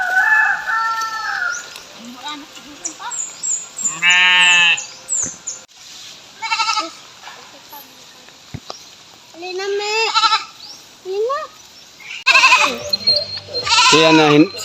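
Goats bleat in several wavering calls on a small farm, loud and close, with a rooster crowing among them and people talking in between.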